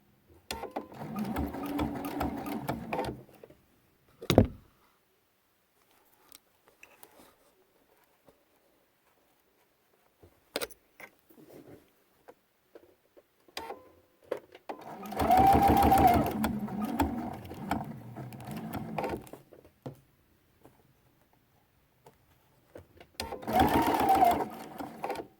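A sewing machine runs decorative stitches along quilt binding in short bursts, a long run near the start and two more later, with quiet pauses and scattered clicks between them.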